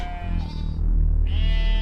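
Sheep bleating in a field, two drawn-out bleats over a low steady rumble, fairly close and clear, with no talking.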